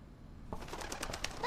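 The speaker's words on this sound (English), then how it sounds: "Hello there, pigeons." Pigeons in the video game Observer coo and flap their wings: a sudden burst of rustling wingbeats and soft bird calls that grows louder and stays close for about a second.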